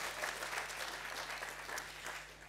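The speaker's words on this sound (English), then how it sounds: "so a round of applause" An audience claps through a session at the AGRF 2022 summit in Kigali, a steady wash of applause from a crowd held at an even level from start to finish, with no voices rising above it.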